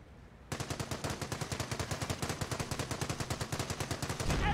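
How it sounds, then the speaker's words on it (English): Rapid sustained machine gun fire in the Company of Heroes battle game, a steady stream of evenly spaced loud bursts running continuously after a brief quieter opening, with no talking. "MG squad under fire!"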